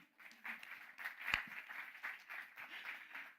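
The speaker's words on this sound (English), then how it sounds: "Little round of applause from me." Applause at a women in tech award ceremony, faint scattered clapping from a small audience in uneven bursts, with one sharp clap or knock standing out near the middle, distant and quiet overall.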